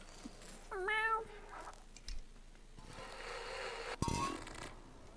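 A cat in the video game Stray lets out a single clear, rising-and-falling meow early on, followed by quieter shuffling and a short thump, with no talking.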